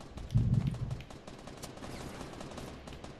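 Video game gunfire opens with a short loud burst of rapid shots, then fades into a low rumbling background with faint clatter.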